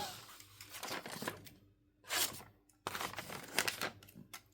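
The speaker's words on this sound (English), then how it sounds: "Now I can cut this out." Paper crinkles and crunches as a tag is cut out by hand, close up, in a few uneven bursts separated by short quiet gaps.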